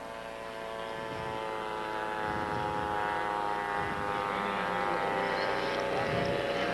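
An old Piper Cub light airplane at a fly-in drones steadily overhead while yawing and side slipping on a landing approach, its propeller engine tone continuous and fairly strong.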